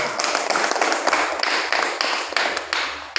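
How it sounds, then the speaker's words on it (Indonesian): A classroom of students applauds together, with dense, rapid clapping that stays loud and close for a few seconds. "Oke, tepuk tangan."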